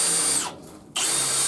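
Power drill boring a small hole in a steel trailer fender just above the frame rail, a loud high whine that briefly drops off mid-cut before the motor spins back up at full speed.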